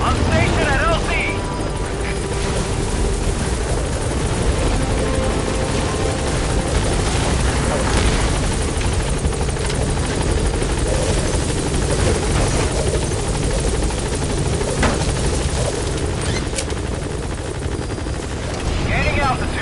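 The Pequod helicopter in Metal Gear Solid V comes in to land at an LZ, rotor thudding loud and close with a constant rumbling roar. A radio voice speaks over it at moments.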